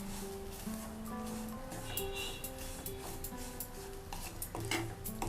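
Grated fresh coconut is stirred and fried in ghee in a pan for rava laddus, with soft scraping and clinking of a utensil over a faint sizzle. The sound is close and continuous, with no talk.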